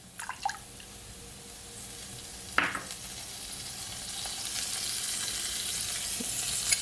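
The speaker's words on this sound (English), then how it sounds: "Gonna give it a stir." Sauce of water and dark soy sauce being stirred in a bowl for garlic shrimp noodles, a soft scraping swish with a brief clink, faint wet sizzling hiss in the background, no talking.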